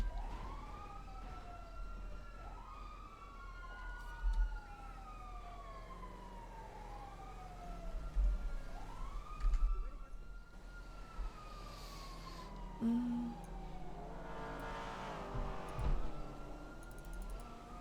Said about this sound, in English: Those engines are so goddamn loud.